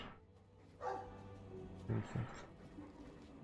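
A dog in the video game Dragon Age 2 gives a couple of short, quiet barks and yips, soft and somewhat distant against a low game background hum.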